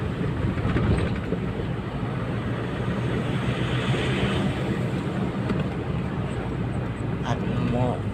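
A turbocharged engine pulls in third gear, a loud continuous drone with rumbling low tones and some whine throughout, close and steady, as if heard from inside the vehicle with wind noise.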